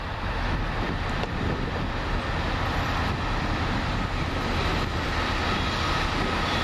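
A Chiltern Railways Class 165 diesel train at London Marylebone, its steady engine rumble and rail noise loud and continuous throughout, with no voices.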